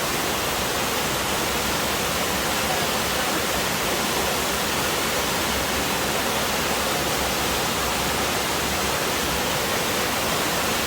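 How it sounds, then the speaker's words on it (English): Laurel Falls in the Great Smoky Mountains cascades down into pools, a steady, broad rushing roar of falling water that fills the scene continuously with no voices. "here's the bottom half of Laurel Falls. You can kind of see how it just cascades all the way down into these pools right here"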